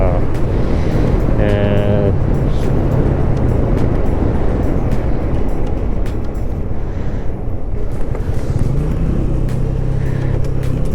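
A car cruises along a mountain highway from Kangra toward Shimla, with steady road and wind rumble throughout and someone talking over it in places.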